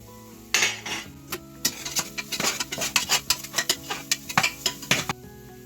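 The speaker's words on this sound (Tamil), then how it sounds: "நல்லா வதக்கணும்" Masala powders sautéed in a pan for chicken biryani, with a spoon scraping and clinking rhythmically against the metal over a soft sizzle, close and busy.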